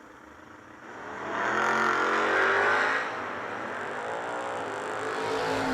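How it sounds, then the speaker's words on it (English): Two Camaro drag cars, a 1978 and a 1982, launch side by side at the Yellow Bullet Nationals drag race, a loud roaring engine rush that swells, holds, then settles into a sustained distant drone. "Here we go with Michael Newman in the 78 Camaro"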